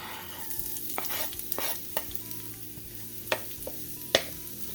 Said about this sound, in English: We're just going to add our minced ginger and garlic to this.